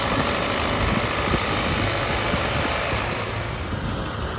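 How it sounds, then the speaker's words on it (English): John Deere 2555 tractor pulling a Kverneland contest plow through a field, a steady low engine drone at moderate distance with faint rustle and no voices. "plowing with a John Deere 2555, pulling a Kverneland contest plow"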